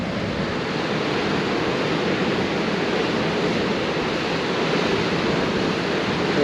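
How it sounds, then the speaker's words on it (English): Continuous roar of ocean swell washing in at Marloo Bay, Fraser Island, loud and unbroken, mixed with gusting wind rushing across the microphone. "A fair bit of swell there."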